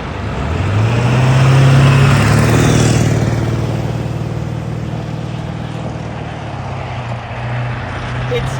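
A Ford 7.3 Powerstroke diesel truck with an upgraded exhaust rumbles loudly and close, its deep, steady drone swelling briefly then settling into an even idle-like throb.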